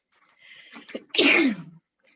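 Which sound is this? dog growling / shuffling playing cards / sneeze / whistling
sneeze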